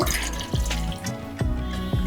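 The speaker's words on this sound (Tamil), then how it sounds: "இப்போ இந்த கப்பில் 1/2 கப் தண்ணி ஊற்றிக்கலாங்க." Half a cup of water trickling and splashing into a cup, with a few distinct drips and plops over a soft running flow, close by.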